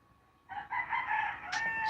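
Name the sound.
rooster crowing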